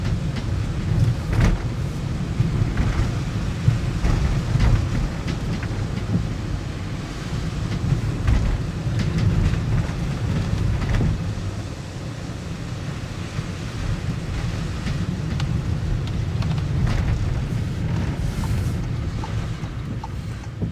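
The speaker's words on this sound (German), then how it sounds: "Das, was man jetzt schon hört bei wenigen km/h, wie laut eigentlich von hinten die Spritzwassergeräusche sind." Water spray hisses and rumbles from the rear of a Knaus Tourer Van 500 MQ camper van driving slowly, a steady low roar with scattered splashy bursts throughout, without talk.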